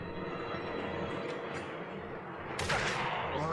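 Gunfire in the horror game Alan Wake 2, with sharp bursts over a dense, steady background rumble and a louder crack near the end.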